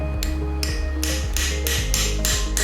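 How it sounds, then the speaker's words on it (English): Iron hammer striking a zipper tooth remover to knock out a tooth, giving a run of sharp metallic knocks at a steady pace over a constant low hum, close up with no talk. "Use the iron hammer to knock it out, and it should be as easy as you see like here."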